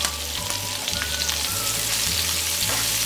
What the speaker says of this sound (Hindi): पहले हाई फ्लेम में 1 मिनट फ्राई कर लेती हूँ